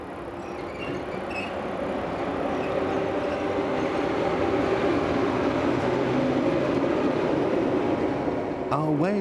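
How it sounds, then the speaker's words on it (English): Rhaetian Railway passenger train hauled by GE44 first and second series electric locomotives, climbing steadily uphill; a continuous loud rumble of rolling wheels and carriage noise fills the interior, with a brief squeal near the end. "We take one of the last of the pre-Vereina services, which were hauled by a mixture of GE44 first and second series locomotives"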